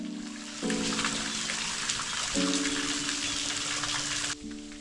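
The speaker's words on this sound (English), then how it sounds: "these were some very peaceful waterfalls, and a pretty nice little spot" Waterfalls in a cave area near Wondabyne pour with a constant rushing, gushing wash that stays steady and fairly close, with faint tonal hum mixed in and no speech.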